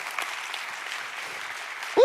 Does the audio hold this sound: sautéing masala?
no